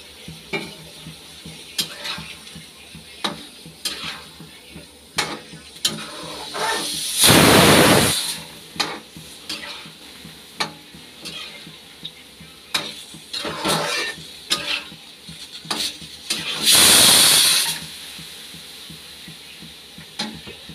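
Potatoes, fried onion and garlic cook in a pan with repeated scraping stirs, and two loud bursts of hissing sizzle rise and fade between them.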